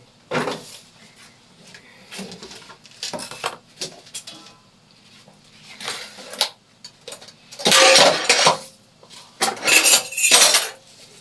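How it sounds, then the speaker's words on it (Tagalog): Dishes, pots and cutlery being washed in a home kitchen, with irregular clinks, clatters and scrapes coming in bursts, loudest in two heavy clusters near the end, with no one talking. "Hugas tayo ng mga hugasan."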